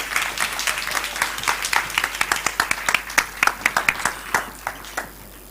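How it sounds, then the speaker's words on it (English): Audience applause for a student speaker at a school stage event, a modest crowd clapping with distinct individual claps audible, fairly close and thinning out toward the end. "let's welcome her with a big round of applause"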